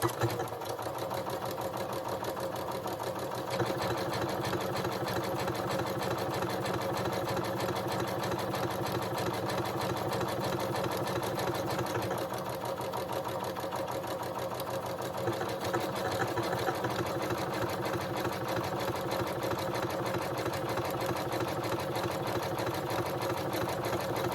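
A home sewing machine stitches a buttonhole on an Isabella dress, a steady mechanical whir running continuously for about twenty seconds, close and fairly loud, with a brief change in pace partway through.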